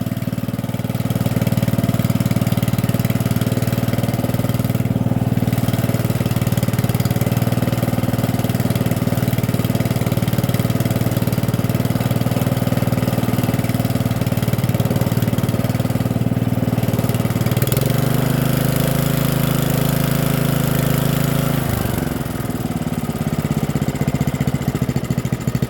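A Troy-Bilt 13cc26jd011 riding mower engine idles steadily and loud, a continuous low rumble that shifts pitch slightly near the end, with no talking.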